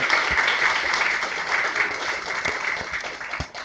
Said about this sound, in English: you deserve a round of applause for your own self.